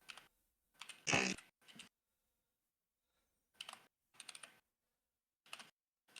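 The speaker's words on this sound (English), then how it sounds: "Who the fuck's typing with a typewriter right" Keyboard typing in short bursts of rapid clicks separated by silent pauses, one louder clattering burst early on, close and quiet with no voices.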